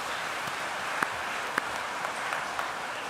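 Steady applause from a congregation fills a reverberant church during Christmas Mass, continuous and moderately loud, with a few sharper individual claps standing out.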